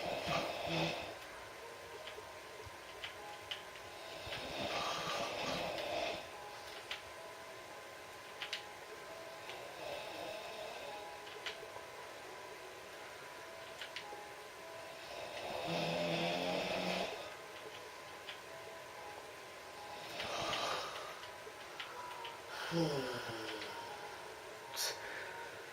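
A person snores in repeated rasping breaths spaced several seconds apart, fairly close, with faint ticking and background sounds between the snores.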